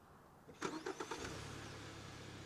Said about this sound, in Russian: И машина завелась.